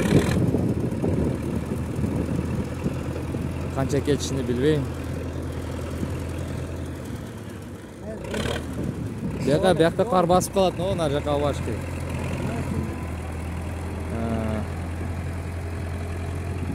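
A newly bought tractor's engine idles steadily in the background as a low, constant hum throughout, while someone talks over it for most of the time.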